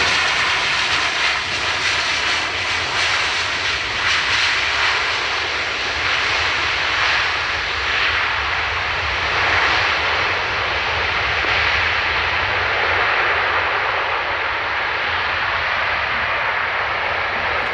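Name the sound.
airliner landing at Dublin Airport, possible reverse thrust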